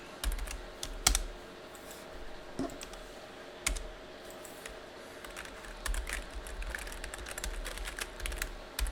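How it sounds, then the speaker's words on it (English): A password is typed on a computer keyboard with clusters of close, crisp key clicks and a few heavier keystrokes, with short pauses between bursts and no voices. "I will type in my password"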